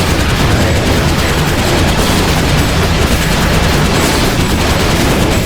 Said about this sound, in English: most of the things you hear in the game is gunfire